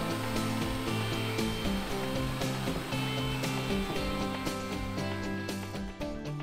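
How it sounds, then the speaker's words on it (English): A Forstner bit drills holes in walnut for a bath caddy handle cutout, a steady, close, whining motor drone with shifting pitch as the bit bites, continuous and loud without speech. "using a Forstner bit to drill 2 holes"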